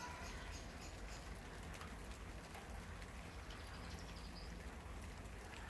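Rain falls steadily outside, a faint, even hiss of drops spread across the whole stretch with no talk.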